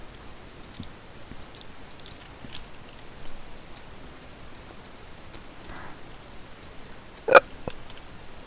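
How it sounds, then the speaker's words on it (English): One sharp, abrupt hiccup from a person breaks a near-silent room late on, preceded by faint small clicks and rustles. "I've got apparently the hiccups on top of it."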